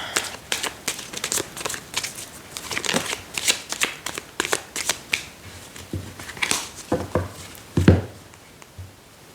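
Lenormand oracle cards shuffled by hand for a reading, a close rapid series of papery riffles and flicks in uneven bursts, with no one talking.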